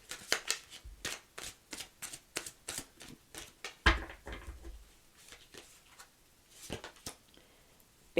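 Tarot cards are shuffled and handled close up, a quick series of crisp riffling flicks and slaps in irregular bursts, quiet and alone without speech.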